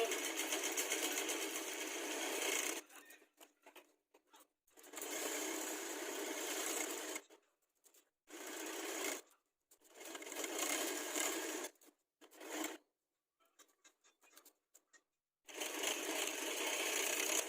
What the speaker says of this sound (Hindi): अब इस तरह से हमें सिलाई लगाते जाना है।